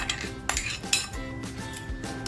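Coarsely ground rice batter being whisked with curd in a bowl for a fasting dosa, repeated sharp spoon-against-bowl clinks and scrapes in an uneven rhythm, close and clear, no talking.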